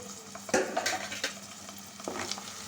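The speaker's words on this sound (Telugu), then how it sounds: "చూడండి ఆనియన్స్ చక్కగా ఫ్రై అయిపోయింది" Onions frying in a pan for an Andhra-style fish curry: a low, steady sizzle with a few sharp utensil clinks and stirring scrapes, with no talking.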